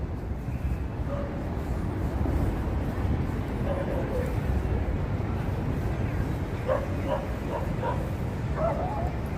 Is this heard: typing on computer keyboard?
no